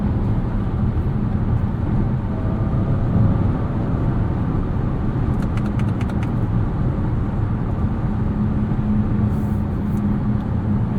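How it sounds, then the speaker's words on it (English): A 2023 Lexus RZ 450e Premium AWD electric car drives in sport mode with its added synthetic sound, giving a steady low hum and road rumble that stays even throughout with no talk. "Sport mode's interesting, adds a bit of sound into the mix."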